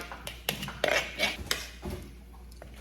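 A spoon scrapes and clinks against a mortar as freshly pounded Thai papaya salad is scooped onto a plate. The knocks are close and irregular, spread over a few seconds.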